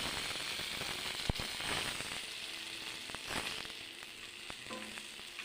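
Fish frying in oil in a pan, a continuous crackling sizzle with scattered sharp pops, a few louder spits and occasional clinks from the pan, heard close up with no talk.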